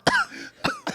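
Two or three short, close coughs with a throat-clearing quality, separated by brief pauses, with no talking over them.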